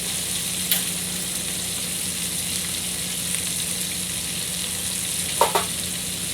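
Potatoes searing in a hot pan during a steak dinner cooking demo, a steady even sizzle with two brief sharper crackles or utensil scrapes, close and without talk.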